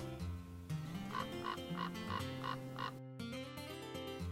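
A raven gives a string of hoarse, croaking calls, about five evenly spaced croaks over harmonic tones, fairly close and clear with no talking.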